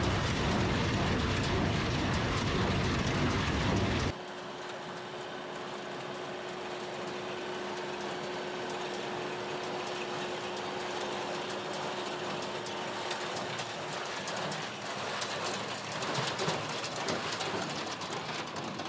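A square baler pulled behind a TYM tractor while baling hay, starting with a loud, dense burst of close mechanical clatter, then settling into a steadier engine drone with rhythmic plunger knocking running throughout.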